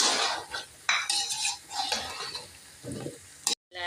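A metal spoon scrapes and clatters in a pot while chicken and potato masala is stirred and fried, with soft sizzling beneath the close, irregular stirring strokes.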